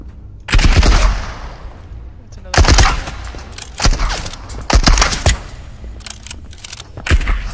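Gunfire from a De Lisle Carbine in the video game Marauders: several loud, sharp shot bursts spaced a second or two apart, each with a short echoing tail, with a voice briefly heard between them.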